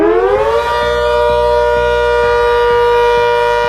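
A civil defense siren blares loud and close, its wail sweeping up and then holding a steady high tone above a rhythmic mechanical pulsing underneath.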